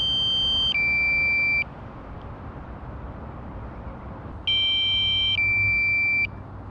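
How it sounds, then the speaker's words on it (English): A DJI Mavic Mini drone emits two loud, sustained electronic beep sequences of stepped tones, each lasting about a second, separated by a quieter stretch of rushing wind-like background noise. "Be interesting if the drone is beeping up there as well."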